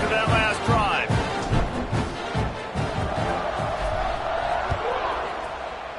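Crowd roar in the NCAA 26 football video game around a kickoff, a broad, steady cheer with rhythmic thumping, under continuous commentary talk.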